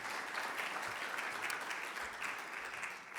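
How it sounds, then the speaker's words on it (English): A room of mayors and business leaders at a plenary breakfast gives a round of applause, dense and steady, a fairly distant crowd sound lasting the whole moment. "Can we give them a big round of applause,"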